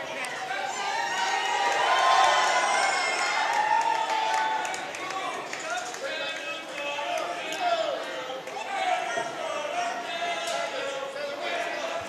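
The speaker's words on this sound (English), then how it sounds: "This crowd is baying for an animal to tear up a hard-working American." A wrestling crowd cheers and bays in a loud, swelling roar that peaks early and then holds at a restless, rumbling level, with an announcer talking over it.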